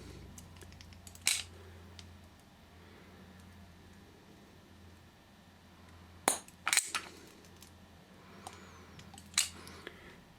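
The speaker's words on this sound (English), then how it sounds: "you need to squeeze the handles together" A caulk gun loaded with a silicone tube gives a few sharp ratcheting clicks as its handles are squeezed to push the plunger, spaced irregular snaps over faint room noise.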